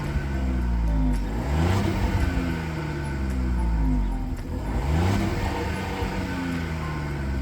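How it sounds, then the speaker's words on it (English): A 2023 VW Polo Vivo GT engine revs up twice, the exhaust rising in pitch and dropping back each time, loud and close, with a steady idle between; a soft rev limiter. "you want to know what the exhaust sounds like"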